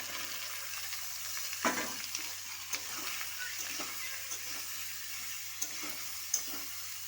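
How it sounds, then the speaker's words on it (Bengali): Boiled potatoes and chickpeas tumble into a frying pan, a low steady sizzle with a few soft thuds and scraping stirs, close and quiet, no voices. "এই সিদ্ধ করা পিঁপে আলু ছোলা তুলে দিচ্ছি"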